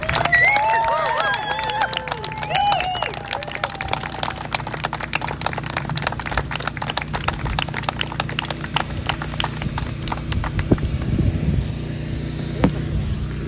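Standing ovation for Senator Reverend Raphael Warnock at Ware County's 200th anniversary event, a dense, steady crackle of crowd clapping lasting many seconds at moderate distance, with a few voices and cheers mixed in.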